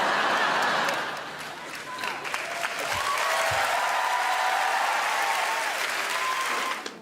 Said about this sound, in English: thank you for stopping clapping really quickly